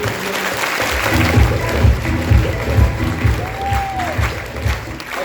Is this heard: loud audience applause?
yes